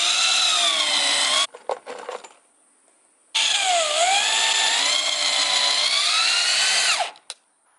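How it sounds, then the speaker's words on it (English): A power drill drives screws to mount a makeshift shelf in a garage, heard as two loud, close whirring bursts of a few seconds each with short clicks and handling noises between them. "Just put it on top and put a couple screws through it."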